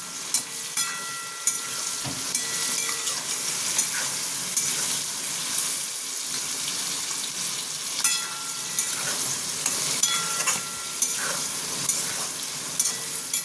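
Capsicum, tomato and other vegetables for chili chicken sizzle steadily in a hot pan, a continuous close frying hiss broken by occasional scrapes and clinks of stirring.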